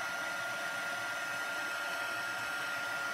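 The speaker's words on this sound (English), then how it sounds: "it does heat and melt much faster each time because the heat gun is still on" A heat gun blows steadily while melting embossing powder on a stamped card, a loud, constant, close airy roar with no pauses.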